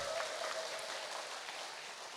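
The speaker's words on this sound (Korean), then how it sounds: "박정희 부학장님께 다시 한번 큰 박수 부탁드립니다" Faint, steady applause from an audience at a college's 30th anniversary ceremony, a soft continuous wash of clapping lasting a couple of seconds.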